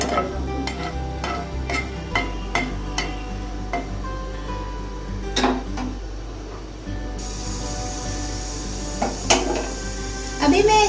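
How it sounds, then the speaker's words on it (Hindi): Dry red chillies are tossed in a dry pan before any oil goes in. A spatula makes sharp, fairly regular ticks and scrapes against the metal over a faint sizzle, up close. "मैं सूखी मिर्च जो है वो डाल दूंगी और उसको थोड़ा सा मैं फ्राई कर दूंगी।"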